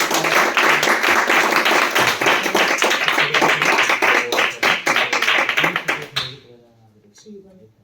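Audience applause at the close of a feminist-theses talk at a regional school, a dense burst of many clapping hands lasting about six seconds before fading quickly, with a voice briefly audible as it ends.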